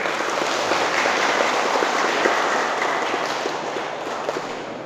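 A group of listeners, likely children gathered for a story talk, claps together in a steady dense patter that stays strong and then eases slightly toward the end.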